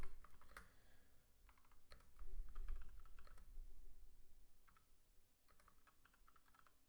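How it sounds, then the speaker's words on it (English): Someone types on a computer keyboard while organizing a Warzone Resurgence 4v4 championship match. Bursts of rapid key clicks come and go over steady low room noise, close but quiet, with no talking. "Sorry, I'm typing, everyone."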